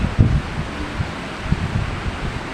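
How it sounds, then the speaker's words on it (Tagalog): Gusty typhoon wind buffets the microphone in uneven bursts and rustles nearby foliage, a rough, close roar with no talking. "Ayun, ang hangin, oh."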